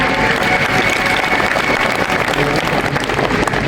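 Steady, loud applause from a large audience at a Bhagavat katha religious discourse, dense clapping filling the whole stretch with a crowd murmur underneath and no pause.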